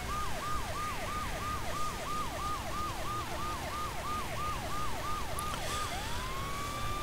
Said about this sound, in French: Les voitures s'écartent quand on met notre sirène.